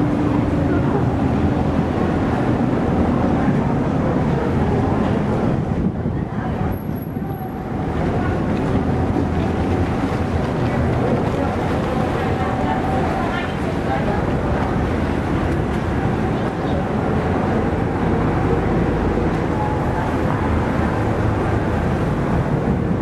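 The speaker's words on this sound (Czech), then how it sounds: "prostě jedeme nějakým speedboatem, jedeme do rezortu" A speedboat carries passengers across the sea to a resort in the Maldives. A loud, constant engine drone mixes with water rush and wind buffeting, briefly dipping in the middle before returning to full strength.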